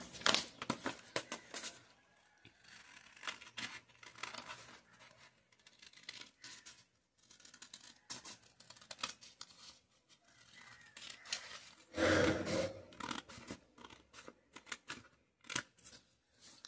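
Scissors cutting canvas fabric for a neck, a series of close, crisp snipping bursts separated by short pauses, with one louder rustling cut near the end and no talk.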